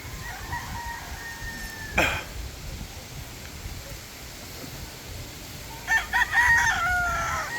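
Young roosters on a farm crow at a moderate distance, one strained crow early on and a second rougher one near the end, over quiet background noise.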